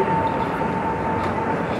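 MRT train at Jurong East interchange station in Singapore, a steady loud rumble and hum with a faint tonal whine, continuous and close throughout.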